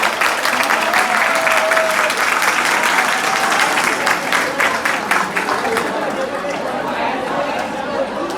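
A hall audience gives loud, sustained applause as guests enter at a meet-up, with crowd chatter and talking mixed into the dense clapping throughout.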